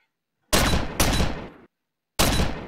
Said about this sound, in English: Yeah, you can shoot holes in the wall.